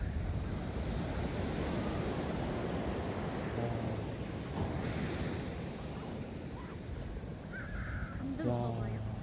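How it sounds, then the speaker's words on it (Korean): Ocean waves crash and wash steadily onto a shore, with wind buffeting the microphone and crows cawing a few times near the end. "야 저거 파도 장난 아니야."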